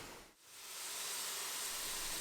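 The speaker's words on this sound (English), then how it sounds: "While the onions are frying away" Onions fry in olive oil in a pan, giving a broad steady sizzling hiss that dips briefly near the start and then settles back to an even level.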